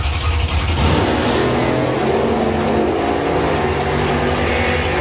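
A 10-second Chevrolet Impala and a 9-second Chevelle hot rod launch side by side at a drag strip, their engines roaring loudly and continuously as they accelerate hard off the line.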